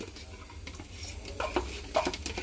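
Ground green chili paste hits a hot pan and is stirred, with soft scraping and faint sizzling under a steady low background hum, rising a little toward the end.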